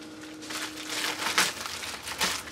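Plastic packaging from a Temu haul being cut and pulled open, close crinkling and tearing with a couple of sharper crackles, fairly quiet and with no talking.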